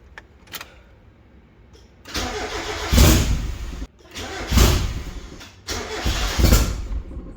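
A turbocharged 1.6-litre Mazda Miata engine cranks and catches in three loud bursts, each start revving briefly before cutting out, with short pauses between attempts and a few faint clicks beforehand.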